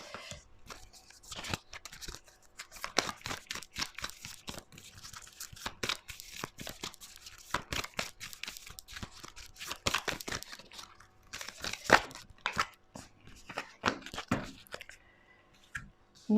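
Tarot cards are shuffled by hand, giving a run of crisp riffling, flicking and slapping bursts with brief pauses between them, close and fairly quiet.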